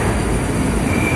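A Moscow metro train at Kitay-gorod station rumbles loudly and continuously, with a thin high wheel squeal running over the roar, close by and with no speech.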